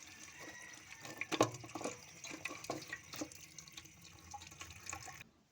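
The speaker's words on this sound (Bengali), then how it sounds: "তো লাউ পাতাগুলো ভালোভাবে ধুয়ে পরিষ্কার করে নিলাম।" Bottle gourd leaves are rinsed under running tap water in a kitchen. The water splashes and trickles quietly with irregular bursts, then stops abruptly.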